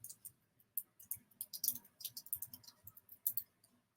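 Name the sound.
typing on a computer keyboard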